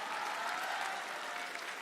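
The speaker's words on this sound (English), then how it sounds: "That is a good example of the crowd going wild" Audience applause during a conference session: a dense, steady wash of clapping from a crowd, fairly distant and even, lasting a couple of seconds without a break.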